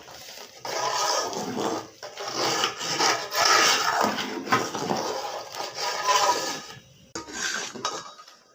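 Close, vigorous mashing and scraping of a wooden masher against a pot of cooked lentils, in repeated rough bursts with brief pauses, no talking.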